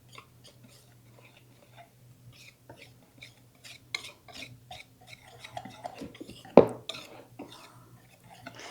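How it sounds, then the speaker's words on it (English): A small whisk stirs butter and salt together in a bowl, giving soft, irregular clicks and scrapes against the sides, quiet at first and growing busier, with a low hum underneath. "we've got to mix that together with a little whisk"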